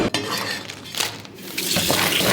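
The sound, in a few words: washing a lobster under running water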